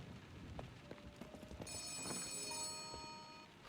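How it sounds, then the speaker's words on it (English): A telephone rings in the video game Letter Lost, a faint electronic ringing tone with bright sustained harmonics that starts partway through over quiet background game sounds and a few soft clicks. "Let's go answer the phone."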